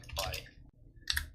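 Keys clicking on a computer keyboard in two short bursts of rapid, light taps separated by a pause, close and fairly quiet.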